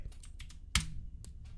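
Soft clicks of typing on a computer keyboard, a few scattered light keystrokes and one sharper, louder key press near the middle, all quiet and close with no voices.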